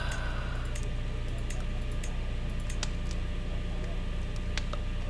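Scattered, sharp mouse clicks sound at irregular intervals, some in quick pairs, during play of the strategy game Crusader Kings 3, set over a steady low background hum.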